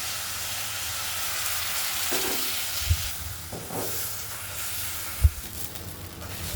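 Batter of beaten egg and curd fries in a kadai, a faint steady sizzle and hiss with a few soft knocks from the pan.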